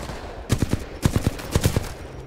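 Rifle fire in the video game Titanfall 2, three quick bursts of three or four sharp shots each, evenly spaced, loud and close with no talking.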